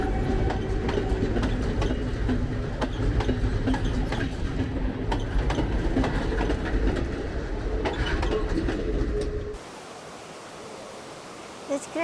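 A train rumbles loudly and steadily along the railway near a bridge in Ella, Sri Lanka, with clattering wheels close by for most of the stretch before the sound drops away abruptly to quiet ambience.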